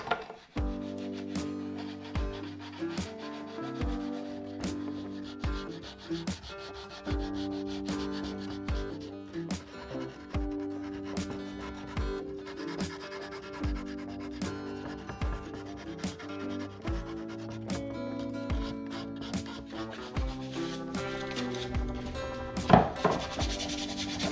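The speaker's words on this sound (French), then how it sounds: "je continue à poncer ça" Sandpaper is rubbed by hand over wood during paint finishing, making a close, steady run of rasping strokes in a brisk back-and-forth rhythm with no talk over it.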